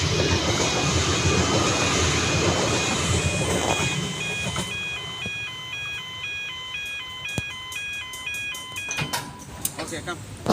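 At the Clayton railway crossing in Melbourne, a Metro train rumbles past under excited talk, then the crossing bells ring in a steady repeating pattern as the noise thins, with occasional clicks and knocks.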